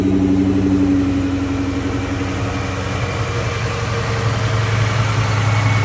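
A Mustang's V8 with a 20-over rebuild and Wiseco pistons, idling cold with a loud, steady, low rumbling throb that holds for several seconds with no talking.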